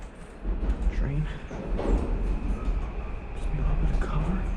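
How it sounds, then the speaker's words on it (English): A train rumbles past near a construction site, a low steady roar swelling and holding with faint rail clatter, while a person speaks over it. "Train."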